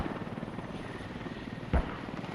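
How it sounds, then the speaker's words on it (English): A helicopter in the video game Squad flies around with a steady, throbbing rotor drone and one brief thump partway through. "Linus still with his helicopters flying around"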